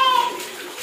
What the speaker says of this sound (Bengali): কলটা খুলে দিয়েছি আর দেখো কতটা জল জমে গেছে এখানে